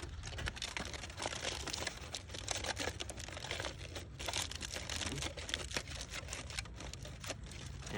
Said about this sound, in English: I'm just folding it up and around into the hole that the tissues would normally come up out of